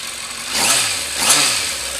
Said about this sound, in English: As you can hear, no ticks, bangs and rattles out of the engine.